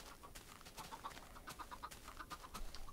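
Many chickens cluck at once in Minecraft, a faint, steady scatter of short clucks and chirps over a hissy background, with no voices.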